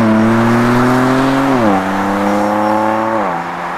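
A BMW M2 Competition's exhaust revs loud and close, the engine note holding high then dropping in two steps as the throttle eases.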